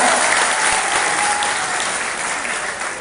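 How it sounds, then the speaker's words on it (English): A debate audience applauds at a Cebu City mayoral debate, dense, steady clapping that fills the whole stretch and eases off slightly toward the end. "why don't we give ourselves a big round of applause?"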